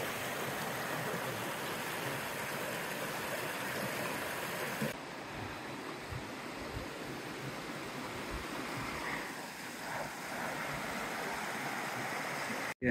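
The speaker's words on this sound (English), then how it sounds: "You have the accompaniment of the water." Water flowing steadily along the Taranaki Falls walk, a continuous broad rushing wash of stream sound that stays loud and close throughout, with no voices.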